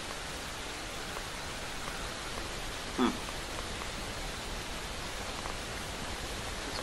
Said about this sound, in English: raining hard